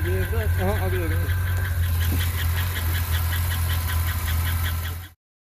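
A car engine with a bad lifter idles with a steady rapid ticking over a low rumble, close up, while a person talks over the start, ending abruptly.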